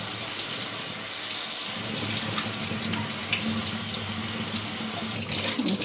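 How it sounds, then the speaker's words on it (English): Salted eggplant rinsed under a running kitchen tap, a continuous close splashing stream of water into a sink with slight fluctuations as the pieces are moved under it, no talk. "Now you're going to rinse this out because this is really salty."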